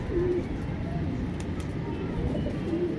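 Pigeon cooing in a breeding loft, soft low coos repeating at a moderate distance against a steady background hum, with a voice faintly present.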